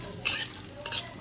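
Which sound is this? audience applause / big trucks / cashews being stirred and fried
cashews being stirred and fried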